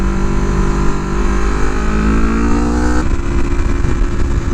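A Yamaha R3 sport motorcycle engine pulls hard in fourth gear, its pitch climbing steadily before a brief shift-like break, loud and close with heavy wind rush and no talk.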